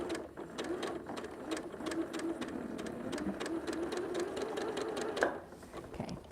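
A sewing machine runs steadily, stitching a quarter-inch seam through a liberated-style curved quilt block, with a fast even whir that carries for several seconds before the stitching stops abruptly.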